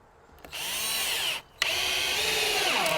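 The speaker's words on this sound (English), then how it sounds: "We'll go ahead and put 3 screws in this one." Power drill driving screws into the framing of a firewood shed lean-to, two close, loud whirring bursts with a short pause between them and the motor pitch shifting under load.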